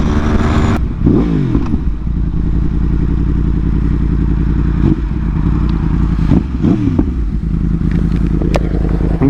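A motorcycle engine idles loudly and close with a steady rumble, broken by several sharp revs that rise and fall, at night with no talking.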